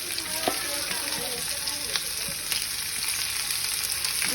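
Onion frying in a little oil in a pan with garlic, a steady, soft sizzle with faint crackles and occasional stirring taps, heard alone without talk.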